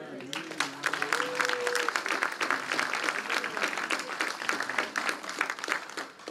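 Church congregation clapping together, a sustained wash of applause with a brief raised voice near the start, carrying on steadily throughout.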